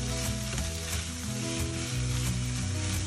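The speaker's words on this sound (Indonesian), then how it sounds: "Kita akan gorengkan ni sebentar." Soaked, drained basmati rice frying in a pan, a loud continuous sizzle with stirring scrapes throughout, no voices.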